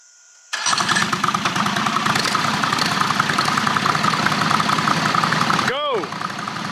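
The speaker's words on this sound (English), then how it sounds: "Gentlemen, start your engines." John Deere L120 riding lawn mowers set up for a mud tug of war start together with a sudden loud catch, then settle into a steady close engine roar that carries on to the end, dipping briefly near the finish.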